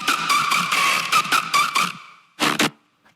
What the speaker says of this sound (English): This was a woolly growl, apparently.